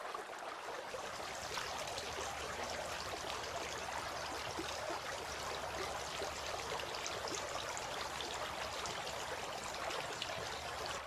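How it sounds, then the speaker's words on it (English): Water is poured steadily over hands during ritual washing, a continuous soft trickle and splash that runs on without pause and with no talking. "poured water on his hands and washed them 3 times"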